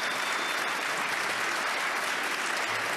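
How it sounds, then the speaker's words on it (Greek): Members of the LGBTQI community applauding from the Greek parliament gallery after a bill passes, a dense, steady wash of many hands clapping at a constant, fairly loud level. "Μέλη της ΛΟΑΤΚΙ κοινότητας χειροκροτούν, αγκαλιάζονται"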